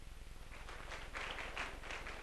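An audience at a Brahma Kumaris Rajyoga camp welcome ceremony in Nawrangpur claps for a senior sister, a short burst of scattered hand claps that swells in the middle and tapers off, with a low hum underneath.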